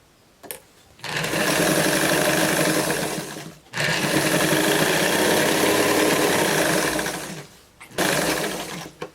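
A sewing machine topstitching a straight denim jeans skirt runs in loud, steady whirring bursts at close range, pausing briefly twice between long stitching runs.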